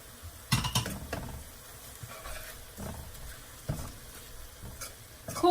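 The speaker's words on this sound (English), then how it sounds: "I'm gonna add some chili." Chili stirred into hot onion-garlic oil in a Lao home kitchen gives a faint, steady sizzle broken by a few sharp scraping and clattering strokes of the spoon.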